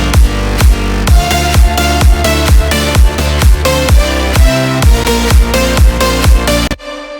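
A loud EDM drop of layered synths pumps in a steady driving rhythm over heavy punchy bass hits, dense and full, then cuts off abruptly near the end.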